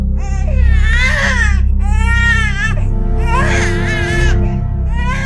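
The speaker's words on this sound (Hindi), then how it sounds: "डिब्बी के अंदर से एक छोटे बच्चे के रोने की आवाज आ रही है।" A small baby cries in loud sobbing wails, three long bursts with brief pauses, used as a horror cartoon sound effect from inside a silver box.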